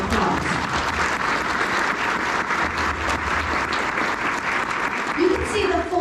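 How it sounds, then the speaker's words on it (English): Audience applause for a group of elected officials and board members at a community meeting, a sustained round of clapping from a large crowd lasting several seconds. "Let's give them all a round of applause."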